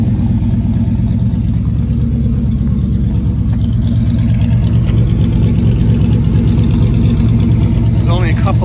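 A 1967 El Camino with a 283 V8 and dual exhaust idles steadily and close by, a deep, even rumble that rises slightly in revs toward the end.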